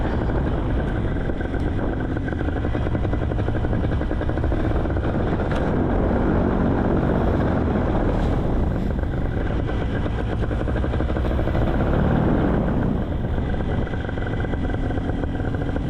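Flow RPM 2 paramotor engine during launch, a loud continuous droning roar that holds steady throughout with no pauses, close and dominating, no talk over it.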